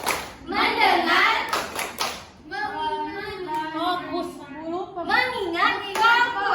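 Children in a classroom clap a focus chant in quick bursts and chant words together in unison between the claps.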